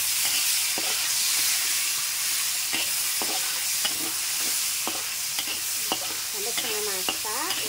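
Shallots, garlic and tomato fry in leftover oil in a home kitchen, giving a steady close hiss and sizzle with scattered scrapes and stirring clatter from a spatula, with no talking.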